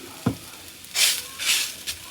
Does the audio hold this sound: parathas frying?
yes